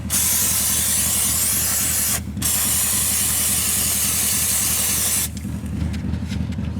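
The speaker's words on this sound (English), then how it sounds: "spray the back panel and some of the inside as well" Aerosol throttle body cleaner sprays onto a 2002 Nissan Maxima throttle body in a steady, loud, close hiss, with a short pause about a third of the way through, then a final burst that trails into a rougher, sputtering spray.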